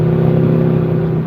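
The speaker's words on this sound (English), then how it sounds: "In this truck, it sounds like I'm racing, but I'm really not." An old truck's engine drones loudly and steadily from inside the cab while driving, with a deep, even revving hum and no talk over it.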